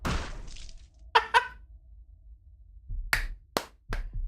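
A few sharp, close claps: a quick double clap early, then after a pause three or four spaced single claps, fairly quiet overall.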